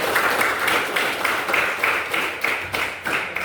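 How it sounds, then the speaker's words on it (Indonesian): A room of schoolchildren in a classroom claps together in a dense, steady burst of applause, rhythmic and close, with faint voices underneath. "terima kasih semua, tepuk tangannya yang baik"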